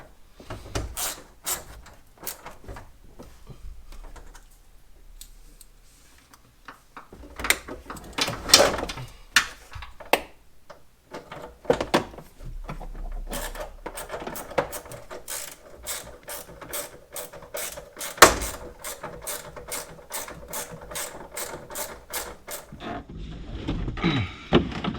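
Ratchet tightening the seat bolts on a Lotus during a seat swap, a run of sharp clicking bursts with pauses between, close and fairly loud, with no talking.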